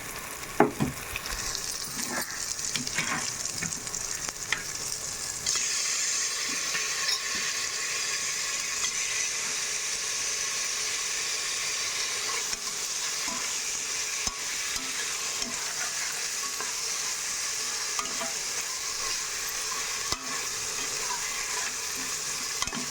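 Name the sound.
sautéing mutton breast bones with ginger garlic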